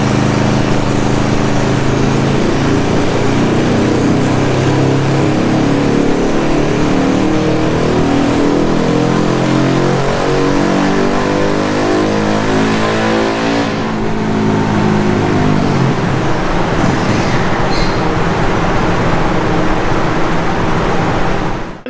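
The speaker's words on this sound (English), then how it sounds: "He was getting it up to 30 kilometers per hour, loading it up and then doing a roll on from there." A Honda 143cc motorcycle engine runs loud and steady on a dyno rolling road, droning at high revs under load with shifting pitch, then easing off near the end.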